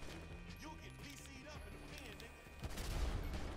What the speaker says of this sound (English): I'm doing it, buddy. Shooting a gas tank.